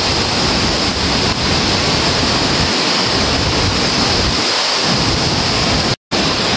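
Mantayupan Falls, among the highest waterfalls in Cebu, sends up a loud, steady broadband roar of falling water that holds without a break, apart from a brief dropout near the end.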